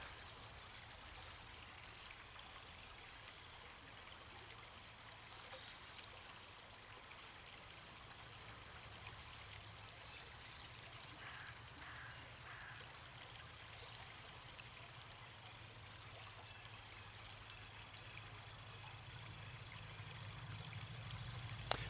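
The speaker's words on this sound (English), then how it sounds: "Listen to the voice of this creek" Steady, gentle rush of creek water flowing continuously, a soft broadband wash with faint trickling detail, fairly quiet and unbroken throughout.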